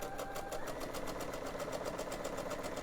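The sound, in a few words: sewing machine stitching gingham quilt layers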